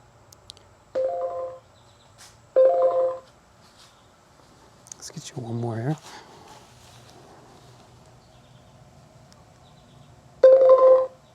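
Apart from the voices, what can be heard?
Segway Myon e-bike prompt sound effects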